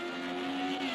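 FR35 race cars at Long Beach crossing the line, a continuous high engine whine held at speed, fairly distant and steady, with no voices.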